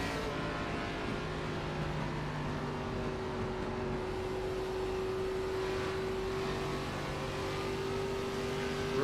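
A NASCAR ARCA Series race car in the iRacing sim game runs at light throttle, giving a steady, moderately loud engine drone with sustained tonal hum and no sharp revving.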